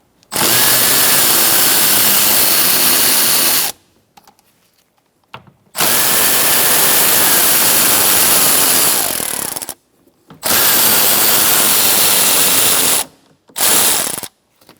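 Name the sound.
ratchet with 10mm socket removing bolts on Kia Soul mirror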